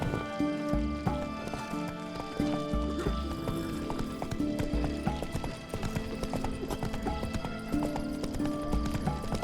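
Roach, the horse in The Witcher 3, galloping with rapid rhythmic hoofbeats clip-clopping close and loud, underlaid by game music and a brief whinny.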